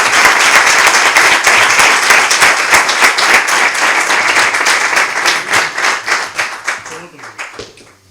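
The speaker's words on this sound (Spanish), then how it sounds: "un aplauso para este señor" An audience applauds at a Holy Week brotherhood event in San Fernando, loud, dense clapping that gradually thins into scattered individual claps before fading out.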